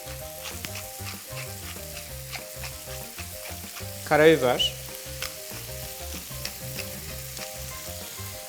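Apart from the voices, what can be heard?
beef slices frying in pan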